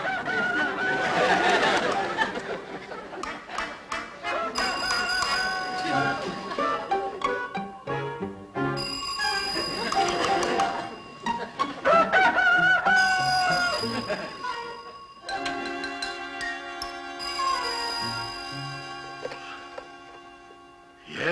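A rooster crows loudly and repeatedly within a sitcom scene, its cries mixed with clucking and other household sounds, with people talking at times.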